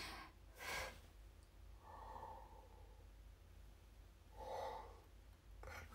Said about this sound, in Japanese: すみません盛大にあくびしました今